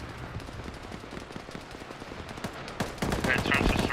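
Gunfire in the military video game Arma 3 comes as rapid automatic bursts and scattered shots at a moderate distance, growing louder and denser toward the end.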